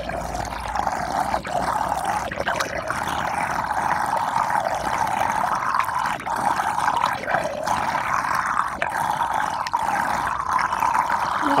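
Rainwater gurgles and trickles as it drains through a guarded spout on a ponded flat roof, a close, steady watery burble with small irregular pops and splashes, heard alone without talking.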